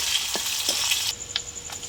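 Onion, cardamom, cinnamon and whole cumin fry in hot oil with a close, bright sizzle that softens partway through, dotted with a few small crackles.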